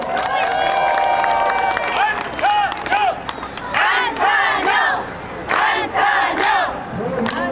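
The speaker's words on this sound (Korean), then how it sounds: "박수 한 번 해주시죠" A rally crowd cheers and claps at a Sejong local election campaign event, loud and close, with repeated bursts of shouting and whoops rising over steady applause for the whole stretch.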